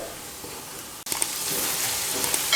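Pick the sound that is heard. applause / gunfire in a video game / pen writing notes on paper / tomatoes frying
tomatoes frying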